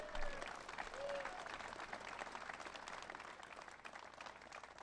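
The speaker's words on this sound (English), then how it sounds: "Let's give another round of applause for Governor Shapiro." An audience at a Pennsylvania press event applauds Governor Shapiro, a sustained room of clapping heard from some distance, fairly faint and even throughout.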